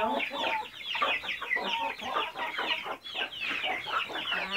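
Dense clucking from a flock of chickens fills the yard nearby, a constant overlapping chatter of hens with no pauses.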